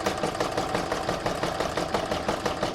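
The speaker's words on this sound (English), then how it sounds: "I'm now going to pop that back in my machine, and I'm going to stitch round number 5" A home embroidery machine stitches a reversible Christmas placemat in the hoop, a fast, even mechanical chatter with a steady hum, close and continuous with no talking.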